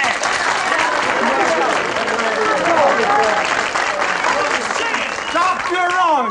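A television studio audience applauds loudly and steadily for a singer being introduced on a 1967 variety show, with the clapping mixed with crowd voices and cheering throughout.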